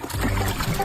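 Water poured over a person, heard as a close, continuous trickling and splashing wash of liquid lasting under a second.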